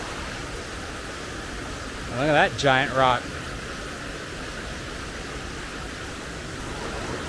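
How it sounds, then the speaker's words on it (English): A waterfall at Otter Falls in the North Carolina Smoky Mountains gives a constant rushing roar of falling water. It stays steady throughout, with someone briefly speaking over it near the middle. "Look at that racing waterfall."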